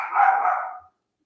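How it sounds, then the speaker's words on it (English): A single short dog bark sounds loud and close, a bright, slightly drawn-out woof that cuts off abruptly into silence. "I'm just trying to hear why they're barking."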